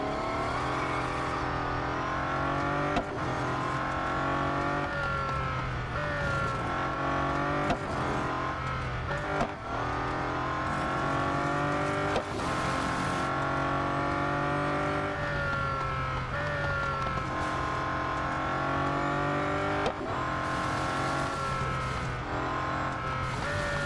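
Bugatti Centodieci racing in Real Racing 3, its engine droning loud and steady with continuous harmonic revs rising and falling through gear changes for the whole stretch, no talk over it.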